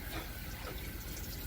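Hot water runs steadily from an RV kitchen faucet in a continuous close, hissing splash with no speech over it.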